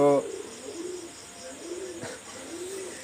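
A Pakistani high-flyer pigeon coos softly once or twice, a low, hollow murmur fairly close over a faint steady background hiss, with a brief click midway.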